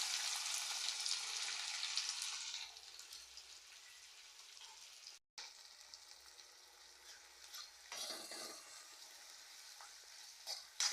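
Onions hit hot oil in a pan for a masala, starting with a bright, loud sizzle that settles into a quieter crackle, with brief stirring scrapes and a renewed hiss near the end.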